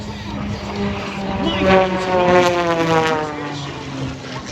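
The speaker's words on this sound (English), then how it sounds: "Accelerates his airplane to over 250 miles an hour." An aerobatic airplane at the Oshkosh AirVenture air show, its engine droning and rising in pitch as it passes, with a loud announcer talking over it throughout.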